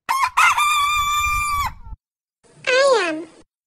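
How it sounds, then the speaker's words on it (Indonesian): A rooster crows loudly nearby in one long call, then after a brief silence gives a shorter second crow. "Ayam. Chicken."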